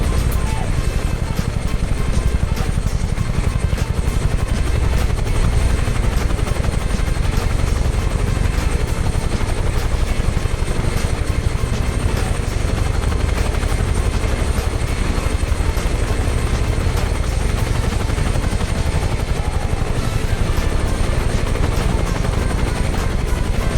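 A Huey helicopter engine and rotor in Microsoft Flight Simulator drone loudly and continuously, a dense steady roar with no pauses.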